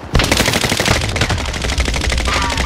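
Machine gun cover fire rattles in a battle royale video game, a loud continuous stream of rapid close shots that runs for several seconds without a break.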